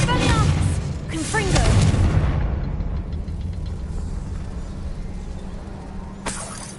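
A Confringo blast spell goes off in the Hogwarts Legacy video game: a loud, crackling burst with a rumbling boom that slowly fades, then a second sharp crack near the end. A voice speaks over the start.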